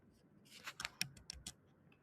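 Marker or chalk writing on a board during a lecture, faint short scratchy strokes and taps in a quick irregular cluster, quiet and close, with no talking.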